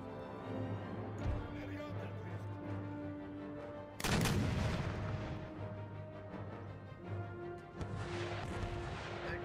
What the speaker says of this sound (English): our artillery has dealt with the enemy gun threat, well, the enemy artillery threat